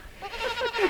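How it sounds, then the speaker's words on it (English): A single drawn-out bleat from a Myotonic fainting goat buck, a wavering nasal cry close to the microphone, with no talking over it. "It's a Myotonic goat, so it's a fainting buck for Finny, our Myotonic doe."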